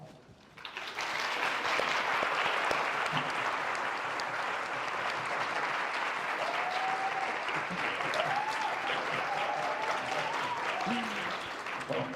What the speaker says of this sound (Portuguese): Um aplauso para vocês também, né?